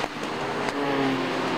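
TVR Tuscan race cars on track at Brands Hatch produce a sustained engine drone with a rising tonal whine as a car passes, heard from trackside at a moderate distance.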